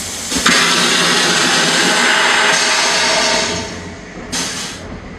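A Chinese squat-style toilet flushes aboard a train to Tibet, a loud rushing whoosh of about three seconds that fades out, followed by a brief second burst under the rumble of the moving train.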